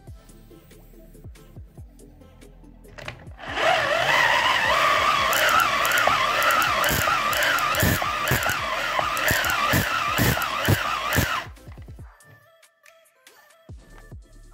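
A homemade hand-cranked 10,000-volt generator is spun up, its whirring grind rising into a loud, steady, warbling drone for several seconds, then cutting off and leaving quiet ticking and clicks.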